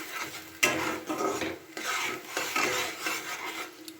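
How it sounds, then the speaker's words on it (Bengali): Spice paste with chopped tomato is stirred and fried in a pan for a fish curry, a spoon scraping and rubbing against the metal in uneven strokes over a low sizzle, close up, with one sharp knock early on. "দিয়ে এবার মশলাটাকে কিন্তু খুব ভালো করে কষিয়ে নিতে হবে।"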